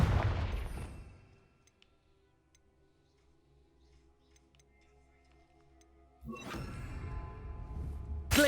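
A fiery Confringo blast spell from the video game Hogwarts Legacy: a loud crackling burst at the start fades into near silence, then another blast erupts and roars on, with a final sharp hit at the end.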